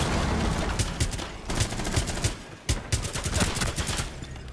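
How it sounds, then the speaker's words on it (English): Gunfire in the video game Rainbow Six Siege crackles in loud, rapid automatic bursts with brief gaps, close and dense throughout the short stretch. "Someone just shot me."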